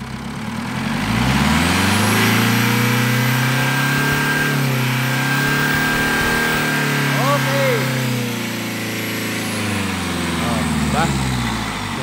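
A Mitsubishi Montero engine, its belt removed, idles and then revs up to about 4000 rpm, holding a loud, sustained drone before settling back, while someone talks over it.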